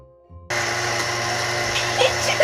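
A small home washing machine switched on, its motor kicking in abruptly after a click and settling into a steady whirring hum, close and fairly loud.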